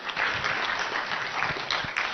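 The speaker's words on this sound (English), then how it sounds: "Clap for him." Brief applause breaks out from the audience at a public participation forum, a dense, moderately loud burst of clapping lasting a couple of seconds.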